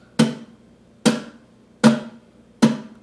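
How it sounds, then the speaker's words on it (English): Four sharp, snare-like slaps from an acoustic guitar strummed across palm-muted strings, evenly spaced and close, each a percussive snap with a quick decaying rattle and no talking. "You're actually just strumming through the muted strings, and it makes a snappy kind of sound."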